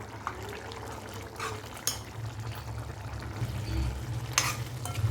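Paneer curry cooks in a pan after water is added, giving a faint, steady low bubbling and sizzle with occasional spoon and pan clinks, no voices.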